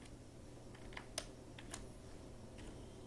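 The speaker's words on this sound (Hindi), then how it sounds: "दोबारा फिर B3 यहाँ पर टाइप करेंगे" Keys tapped on a computer keyboard while entering an Excel formula, a few sparse, faint clicks spaced irregularly over a low background hum.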